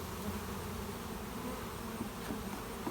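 Honeybees crowding over a hive frame full of young brood, a steady, dense, close buzzing hum that stays even throughout with no talk.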